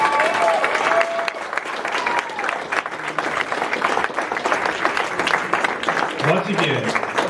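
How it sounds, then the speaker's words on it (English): An audience at an Air Force ALS class graduation ceremony breaks into sustained, dense applause that carries evenly throughout, with cheers and voices mixed in. "Please join me in applauding our Air Force's newest leader."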